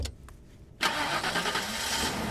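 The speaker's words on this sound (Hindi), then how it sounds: "गाड़ी स्टार्ट कर।" A car engine starts after a short quiet stretch, firing up abruptly with a loud catch that settles into a steady, fairly close idle.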